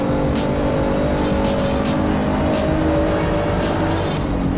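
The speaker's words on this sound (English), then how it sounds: "Surratt now very close to Osma through the final corner. Looking for the slipstream effect down the main straight." GT3 race cars run down the main straight in the Assetto Corsa game at the Nürburgring, a loud, continuous engine drone with squealing tyres and repeated whooshing surges as cars close up.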